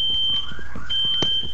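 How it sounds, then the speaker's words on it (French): A fire alarm sounds a steady, high-pitched electronic tone that runs continuously with one brief break, fairly loud over a low background rumble. "Merde, y'a l'alarme à feu."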